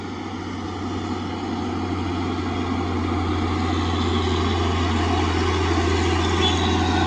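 Steady heavy engine rumble with a constant low drone from a truck on a road coming from the direction of Medan, continuous and fairly loud throughout with no talking.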